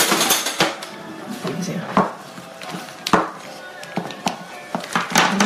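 A spoon scoops white buttercream from a bowl while piping a cupcake flower box, giving irregular close scrapes and clinks against the bowl, with a few sharper taps spread across the moment.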